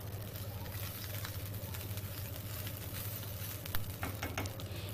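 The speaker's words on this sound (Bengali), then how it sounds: "আমরা এবারে একটু ভেজে নেব 3-4 মিনিট, হালকা হাতেই ভাজব" Cumin rice frying gently in a pan over a low flame gives a steady, close sizzle with soft crackles throughout, a low hum underneath and a few brief clinks of stirring near the end.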